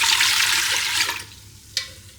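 About 2.5 cups of water gush steadily into a Ninja Foodi cooking pot being set up for steam baking, the pour cutting off after a second or so, followed by a single short clunk.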